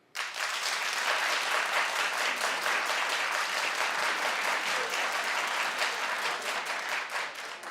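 A studio audience at a talk show claps loudly and continuously for several seconds, a dense, even burst of many hands that starts abruptly and tapers slightly at the end.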